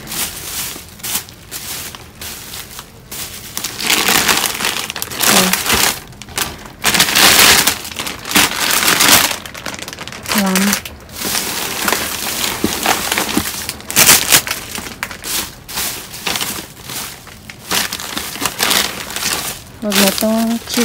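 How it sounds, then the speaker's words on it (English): A plastic bag crinkles and rustles repeatedly as items salvaged from a dumpster, including chicken, are packed into it. The loud, busy crackling runs throughout, with people talking over it and occasional knocks. "Put something in this plastic bag."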